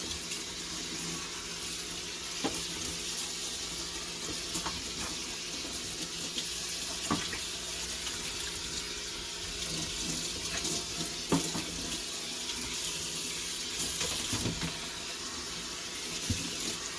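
Tap water runs steadily into a container being rinsed out in a kitchen, a continuous close splashing hiss with occasional clunks of the container shifting under the stream.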